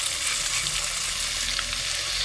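Ground spice paste hits lightly fried onions in a pan for a Bengali small mola fish curry, giving a loud, constant close sizzle with stirring and no speech.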